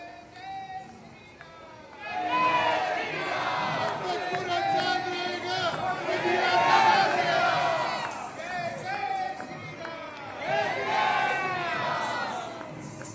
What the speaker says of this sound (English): interacted with the enthusiastic crowd who chanted Bharat Mata Ki Jai and Modi Modi to welcome him